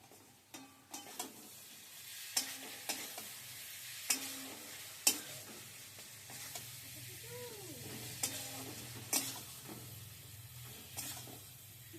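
Spice masala for prawn malaikari being stir-fried in a pan, with a steady sizzle and hiss under repeated scraping and clanking of the spatula, some strokes sharper and louder than others.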